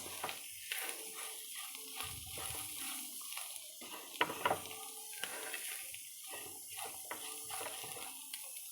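Spices being stirred into chicken liver fry in a pan, with an ongoing soft sizzle and intermittent scraping stir strokes, moderately close, with no talking.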